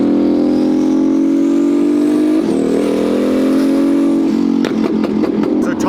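A twin-turbo Ferrari F12 engine runs steadily at a high idle, loud and near, with a shift in pitch partway through and a run of sharp clicks or pops toward the end, with no talking.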